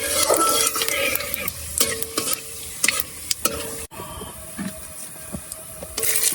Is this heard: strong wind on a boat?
no